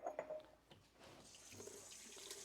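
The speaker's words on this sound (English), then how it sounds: "these I'm just going to fill with hot water because these are going to be our buffer" Hot water runs from a tap into canning jars set aside as a buffer before a water bath canning session, a steady moderate splashing stream after a few brief clinks at the start.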